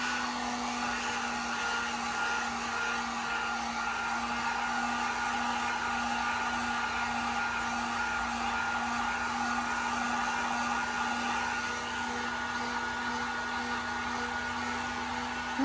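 Electric heat gun blowing hot air over epoxy on a glittered tumbler, a steady close whooshing blower roar with a constant motor hum running unbroken throughout.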